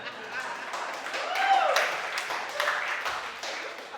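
Audience at an amateur stand-up comedy show clapping in a steady, moderate patter of scattered hands that swells slightly midway, with faint murmuring underneath and no voice on top.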